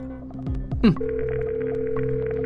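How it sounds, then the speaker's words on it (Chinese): A telephone line tone for placing a call in an animated drama: a brief clatter, then a steady, sustained electronic tone held alone to the end. "我打电话找我大哥来"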